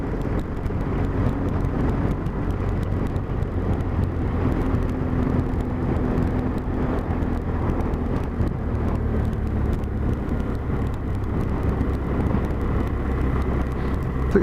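BMW GS motorcycle riding along a smooth rural road near Hambleton toward Lancaster, steady engine drone mixed with constant wind rush on the microphone, no talking.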